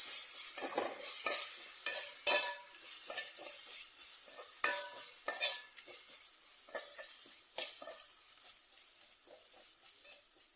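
Bitter gourd sautés in oil with crushed ginger and garlic, giving a bright steady hiss and a run of quick scraping stir strokes, close and fairly quiet.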